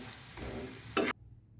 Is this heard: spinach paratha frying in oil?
yes